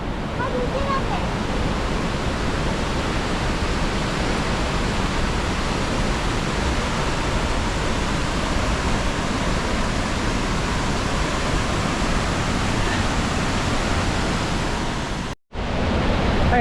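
Cinchona waterfall in Costa Rica roars as a loud, unbroken wash of falling water close by, steady throughout with only a brief dropout near the end.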